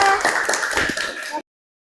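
Classmates in an Islamic religious studies (Akidah Akhlak) class clap together for about a second and a half, a dense, close burst of hand claps with faint voices mixed in before it stops abruptly.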